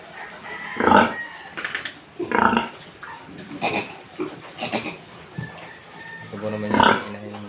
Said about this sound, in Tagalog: Ito po naman yung inahin ng baboy.